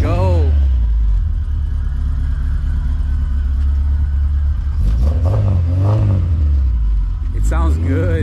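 A car fitted with a full 3-inch Yanaka exhaust revs and pulls away, its low engine rumble and rising throttle sweeps loud and close, with people talking over it.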